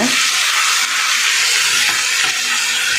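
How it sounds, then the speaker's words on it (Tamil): Minced mutton sizzling with masala in a hot pan as it is sautéed, a steady loud hissing fry that runs continuously and close, with no voices over it. "இந்த மசாலா கூடவே நம்ம எடுத்து வச்சுருந்த கொத்துக்கறி சேர்த்துடலாம் எல்லாத்தையும் போட்டு நல்லா ஒன்றா வதக்கி விட்டுக்கோங்க"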